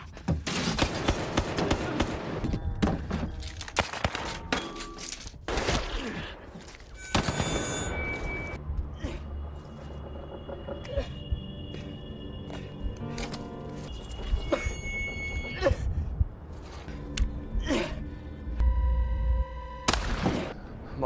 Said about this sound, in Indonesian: Dia menembaki musuh dan berhasil melumpuhkan beberapa di antara mereka.